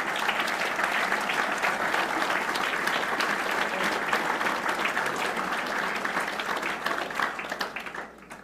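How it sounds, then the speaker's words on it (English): Sustained applause from a seated gathering at a golf classic fundraiser dinner for Guiding Eyes, a dense, steady roar of many hands clapping that holds for several seconds, then thins and tapers off at the end. "A warm round of applause for Guiding Eyes Chief Investment Officer, Kurt Landtroop"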